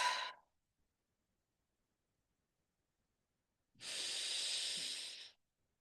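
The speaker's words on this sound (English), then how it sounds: "Inhale and exhale. And do two more on your own time." A deep, slow breath is heard close to the microphone: the tail of one exhale at the start, a long silence, then a loud, airy breath lasting over a second, with no talking.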